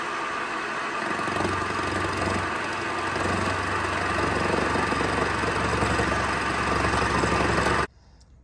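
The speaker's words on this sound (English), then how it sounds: "I'm using the rotary table again to cut the inside radius of the case where my weld hung down inside the spigot." Steady mechanical whir of a machine cutting a welded Harley Knucklehead engine case half on a rotary table, running continuously and close, with a low drone that cuts off abruptly near the end.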